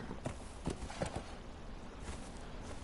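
Horse hooves clip-clop in a quick uneven rhythm as the horse is ridden in Conan Exiles, moderately close over a constant game background hum.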